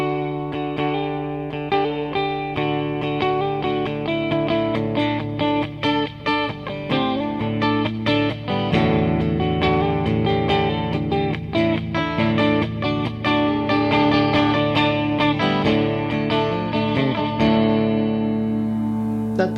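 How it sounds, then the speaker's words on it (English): An electric guitar played with a bright, clean tone, picked notes and chords ringing out in a continuous passage with a touch of shimmer and reverb. "this is my clean sound"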